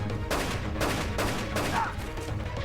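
A gunshot rings out in a tense scene of the Batwoman TV series, episode "Through the Looking Glass", heard as a few loud, broadband bursts spaced across the moment with no talk over them.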